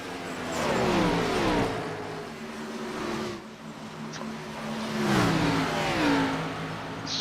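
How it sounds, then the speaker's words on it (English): Race cars in a racing game at Dover roar past in loud swelling waves of engine revving as they run through the corners, with no speech over them. "you can hear the cars scraping and grinding and squeaking through the corners"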